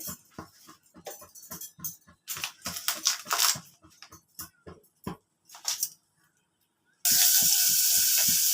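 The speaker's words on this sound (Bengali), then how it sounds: "প্রথমে দুটো তেজপাতা ফোড়নে দিয়ে দিলাম, তেলটা গরম হয়ে গেছে।" Two bay leaves hit hot oil as tempering for a garlic and ginger pickle. After several seconds of irregular knocks and rustles with a short quiet gap, a loud, steady, hissing sizzle starts suddenly and continues to the end.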